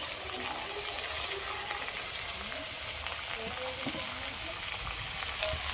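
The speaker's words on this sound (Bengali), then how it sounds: "এবার এই লাউগুলো দিয়ে দেবো কড়ার মধ্যে।" Bottle gourd pieces fry in a wok with a steady, dense sizzle that runs throughout, broken by occasional faint scrapes and clicks of stirring.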